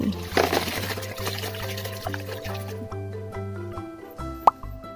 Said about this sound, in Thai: เราก็จะเอามาล้างน้ำให้สะอาดนะคะนี่